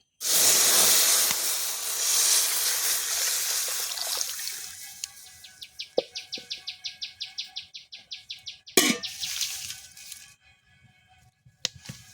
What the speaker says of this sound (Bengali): প্রথমে গরুর দুধটা গরম করে নিচ্ছি